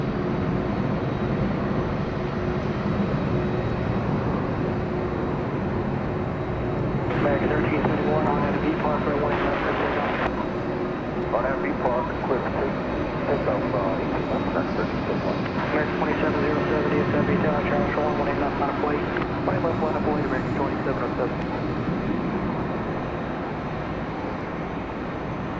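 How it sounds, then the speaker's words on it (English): Cargo plane engines roar steadily at DFW Airport at night, a continuous loud broadband rumble with shifting tones that fills the whole stretch, and faint talk runs underneath. "So I do like to come out here at night and see all these good old cargo planes"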